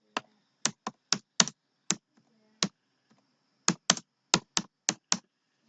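Crisp keystrokes on a computer keyboard, typed in short bursts of separate clicks with brief pauses between groups, close and clear in a quiet room.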